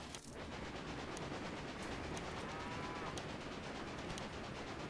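The Rogers American train runs in the Railway Empire video game: a dense, continuous rumble of rolling wheels and rail noise with faint regular clicks, steady throughout and with no talk.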